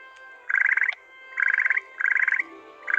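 Chocolate frogs croak in the game Harry Potter Hogwarts Mystery, four rapid rattling croak bursts in a steady rhythm, each about half a second long, clear and close.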